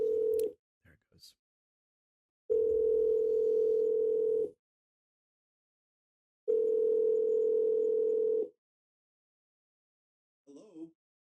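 A steady telephone ringback tone sounds in two long bursts separated by silence, with brief clicks before and a short voice at the end.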